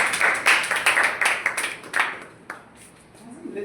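Scattered clapping from a small group at a Toastmasters meeting, a burst of hand claps for a couple of seconds that thins out and fades.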